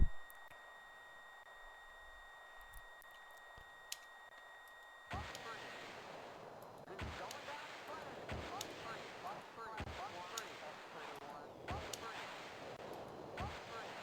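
Weapons fire in the flight combat game Jane's ATF: after a quiet stretch with steady electronic beeps, a rapid series of sharp bursts and blasts repeats at irregular intervals, fairly faint overall.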